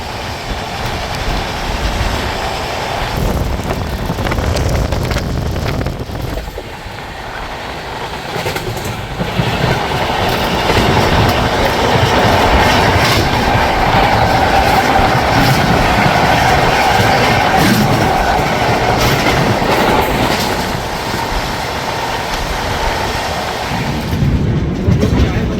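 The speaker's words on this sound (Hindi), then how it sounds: "अब यहाँ पर हम उससे शायद से वापस से ओवरटेक मार रहे हैं" A passenger express train runs alongside a parallel freight train while overtaking it, giving a loud, continuous rumbling roar of wheels and carriages heard from on board.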